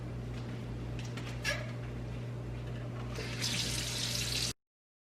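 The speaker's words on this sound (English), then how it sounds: "running water through it" A kitchen item is rinsed under a running tap in a home kitchen, giving a steady close water rush with a low hum beneath and a brighter splashing burst near the end before it cuts off.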